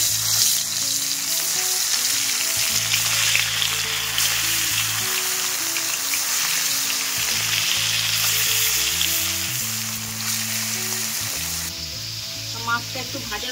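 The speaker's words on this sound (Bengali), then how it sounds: "তেলটা গরম হয়ে গেছে, এবার মাছগুলো আমি একে একে দিয়ে দেব।" Catla fish frying in hot oil in a wok: a steady, close sizzle and crackle runs throughout, with music playing underneath.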